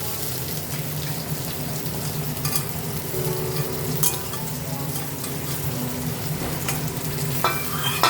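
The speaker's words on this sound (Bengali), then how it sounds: "এবার বাকি দুখানাও আমি ভাজতে দিয়ে দেবো" Stuffed slices of young ash gourd frying in oil, with a steady close sizzle under occasional light scrapes and taps of a spatula, and no talk.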